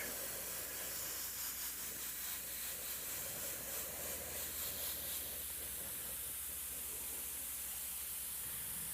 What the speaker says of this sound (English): Why are you spraying over black?